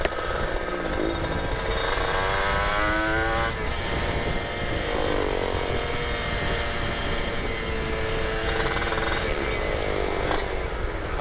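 A Kawasaki Ninja RR two-stroke motorcycle engine drones steadily from start to finish, its pitch rising and falling as the throttle changes, with road and wind noise underneath during a group ride near Lembang.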